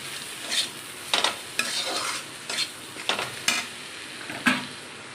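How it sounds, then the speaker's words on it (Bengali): A spatula stirs egg Maggi noodles seasoned with salt, turmeric and chicken masala in a hot pan, giving a series of scraping, clattering strokes at irregular intervals over a soft, steady sizzle. "এটা দিয়ে ভালো করে আমি নেড়ে নেব।"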